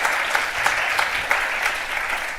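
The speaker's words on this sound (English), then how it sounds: "You can have a little clap, actually, I think." Audience clapping at a session of the Global Forum for Responsible Recruitment 2024, a steady burst of applause from a seated crowd that holds fairly even for a couple of seconds with no talk over it.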